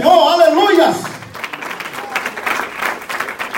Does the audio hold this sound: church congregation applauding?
yes